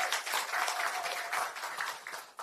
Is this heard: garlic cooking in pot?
no